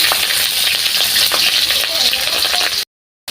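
Green chilies and onion frying in oil on a mud village stove, a loud, steady sizzle with occasional stirring clicks, then cutting off abruptly into silence near the end.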